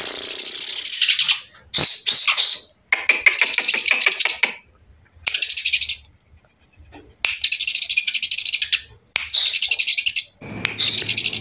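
A cucak hijau songbird sings close and loud in bright, rapid bursts of high chirps and trills, separated by short silent pauses.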